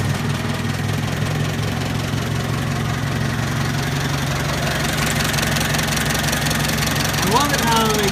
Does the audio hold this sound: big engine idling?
yes